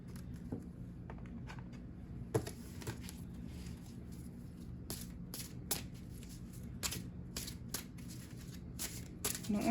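Soft, repeated riffling bursts of tarot cards being shuffled by hand, quiet and close, in short irregular flurries.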